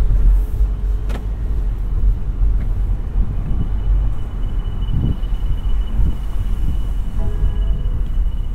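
A 2021 BMW 430i convertible retracts its top while driving slowly, a steady mechanical whir sitting under constant road rumble and wind noise, with a couple of faint clicks along the way.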